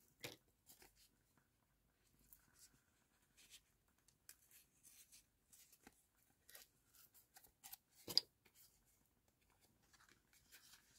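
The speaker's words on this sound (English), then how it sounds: "I'm just going to tear that and then see how it looks." Quiet, close scratchy rips and small crinkles of controller packaging card being torn by hand, coming in short irregular bursts with one sharper tear near the end.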